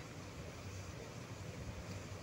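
Wind blows steadily outdoors at the Dhauli hill site, a constant broad rushing roar that buffets the microphone with no voices.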